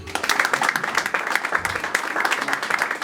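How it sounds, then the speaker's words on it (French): Wedding guests applaud and cheer in a hall, dense steady clapping from a crowd filling the whole moment with no pauses. "Est-ce qu'on peut acclamer davantage?"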